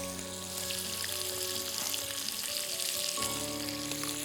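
Onions browning in a frying pan for paneer fajitas: a steady, bright sizzle running throughout, close and even, with a faint low hum underneath and no voices.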